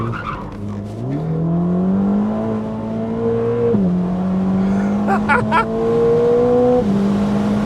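A Ferrari Roma Spider accelerates hard with its top down. Its engine note climbs steadily through several quick gear changes, loud and close, with wind rush and a faint tire squeal near the end.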